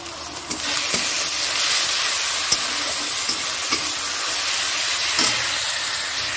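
Chili powder sizzles in hot oil in a pan of frying fish curry masala, a close, steady hiss broken by a few sharp spatters and stirring scrapes.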